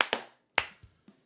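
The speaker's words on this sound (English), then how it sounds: "This is the clap test." Hand claps for an audio sync test, a few sharp, close claps: two quick ones, then a louder single clap, followed by two softer taps.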